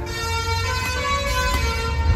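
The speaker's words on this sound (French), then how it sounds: "les chicken bus, les klaxons." Chicken buses on a Guatemalan road sound a sustained, tonal horn blast that holds steady for about two seconds over a low rumble of engines.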